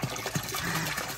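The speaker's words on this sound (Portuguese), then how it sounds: "Vou encher aqui a piscina." Water pours steadily into a small backyard pool where huskies play, a continuous close rushing gush with no voices.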